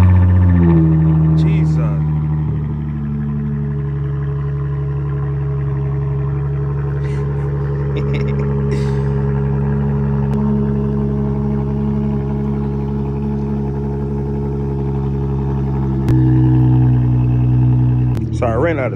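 V6 Mopar car engine with an aftermarket exhaust on a cold start, a loud steady rumbling idle that settles slightly, then a brief rise in revs near the end, with some talk over it.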